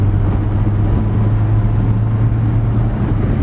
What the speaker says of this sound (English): You've got the sort of transmission whine that almost harks back to the 1930s, but now nicely subdued.